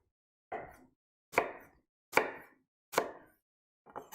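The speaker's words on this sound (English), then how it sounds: "we're just going to cut a couple of vertical slices down through the onion" A knife chops down through an onion on a cutting board, five crisp, evenly spaced strikes close by, each a sharp thud with a short scraping tail, with no voices.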